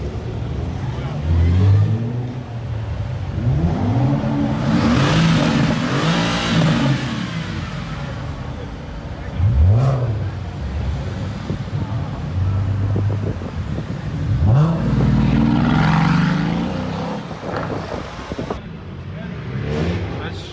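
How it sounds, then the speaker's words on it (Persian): Cars pass and rev at a London car meet, including a Mercedes-AMG GT S, with several loud engine swells rising and fading across the scene, some close by, and people talking and shouting between them. "کلی هم ماشین داره رد میشه و گاز میزنه"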